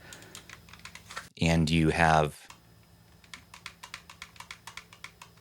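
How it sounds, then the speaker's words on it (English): The L1 and R1 shoulder buttons on an AYN Thor handheld give a quick series of light, fairly quiet clicks, pressed rapidly and steadily, with a brief moment of talk in between. "Looking over here on the shoulder buttons, we do have quiet, clicky L1 and R1."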